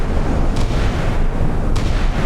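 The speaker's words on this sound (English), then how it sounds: "Naval gunfire coming out." Naval gunfire in a Cold War naval warfare video game, with a heavy, continuous rumbling barrage close and loud throughout, punctuated by two sharper cracking reports.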